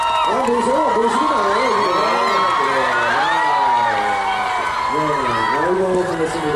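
A concert audience cheers loudly in a continuous roar, with shrill shouts and whoops rising and falling and voices calling over the crowd.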